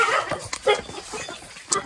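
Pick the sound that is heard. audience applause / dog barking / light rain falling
dog barking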